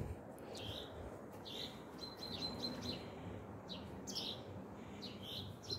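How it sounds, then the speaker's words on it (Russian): Sparrows living on a rooftop chirp in repeated short bright calls, scattered and fairly close, over a low outdoor background hum, with no talking. "Чирикают."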